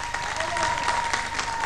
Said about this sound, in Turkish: benim orkestrama alkışı nerede?